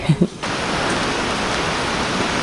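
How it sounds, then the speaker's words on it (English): Heavy rain pours down steadily on a mountain trekking trail on the Annapurna Base Camp route, a dense, loud, unbroken hiss that follows a brief burst of nearby voice at the very start. "now rain is just stronger"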